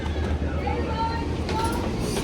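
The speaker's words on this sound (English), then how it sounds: "The train is literally already here." Steady low rumble of a train standing at a Los Angeles station platform, with station hubbub and a voice speaking faintly underneath.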